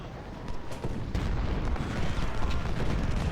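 Distant, muffled battlefield din from Ultimate General: Civil War, with overlapping musket gunfire and artillery booms forming a continuous low rumble that swells slightly, with no voices.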